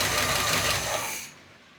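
A twin big block marine engine on an old yacht idles roughly after a hot start, a loud close rumble that drops away sharply near the end.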